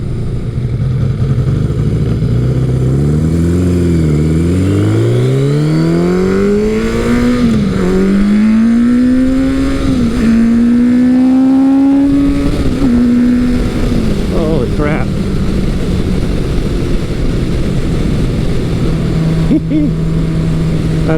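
A Kawasaki Eliminator 900 motorcycle pulls hard through rising revs, its engine note climbing and dropping at each gear shift, loud and close with wind rush, then easing to a steady drone.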